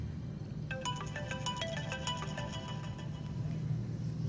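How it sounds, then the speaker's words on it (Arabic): Mobile phone ringtone plays a repeating melodic pattern for about two seconds over a steady low background hum, fairly close and clear, with no talking. "تليفونك بيرن أهو، ممكن تردي وممكن ما ترديش."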